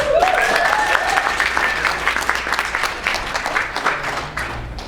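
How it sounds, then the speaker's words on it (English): A conference keynote audience applauds at a podcasting event, steady clapping that starts full and gradually thins and fades, with a faint tonal whistle or feedback tone early on. "Let's give a huge Lime Room round of applause"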